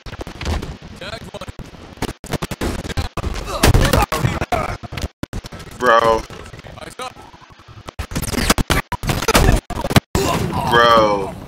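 Shotgun blasts in Halo Infinite gameplay ring out as loud, sharp repeated bursts amid frantic combat noise, with a voice talking over much of the action.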